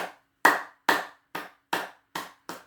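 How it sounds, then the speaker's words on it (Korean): Claps ring out from a congregation at an online Zoom Sunday worship service, offered in praise to God: seven sharp, separate hand claps, fairly close and evenly spaced, each with a short decay and no voices. "우리 이 시간 하나님께 영광의 박수를 한번 같이 쳐볼까요?"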